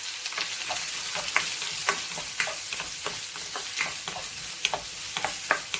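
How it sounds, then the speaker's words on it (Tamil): Chopped onions sautéing with curry leaves in a pan for kalpuravalli rice, a steady close sizzle with frequent crackling pops and light stirring scrapes. "நல்லா வதங்கட்ட வெங்காயம்"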